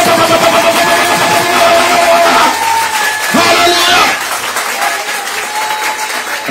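A church congregation breaks into loud, sustained applause with cheering and shouting voices mixed in, the clapping dense and close for several seconds before easing slightly.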